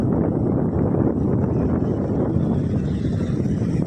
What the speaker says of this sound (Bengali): সাগরের গর্জন